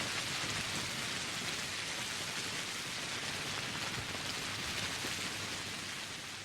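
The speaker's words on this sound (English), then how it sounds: "the rain is playing loudly this one time" Steady rain in a video game pours in a dense, even hiss, continuous and fairly soft, with no voices or other sounds over it.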